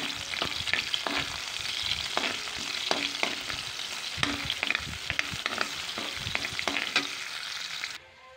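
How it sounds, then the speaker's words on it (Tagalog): Garlic and onion sauté in a pan, a steady close sizzle broken by frequent sharp clacks of a spatula against the metal, moderately loud and without talk, cutting off abruptly at the end. "at magigisa lang po tayo ng ating bawang. Then susunod na po natin yung ating sibuyas."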